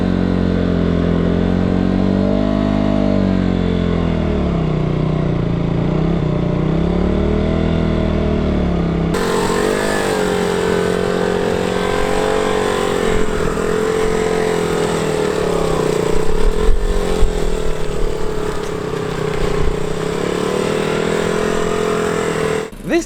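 A motorcycle engine holds a steady, loud drone as the bike creeps through a slow U-turn with the clutch slipped, the pitch wavering and dipping slightly, then settling into a rougher, throatier note as the speed picks up a little.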